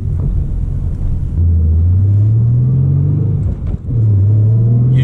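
A V6 Ford Mustang built for track use revs and pulls hard through the gears on a circuit, its engine tone climbing steadily, dipping at a shift, then rising again, loud and close.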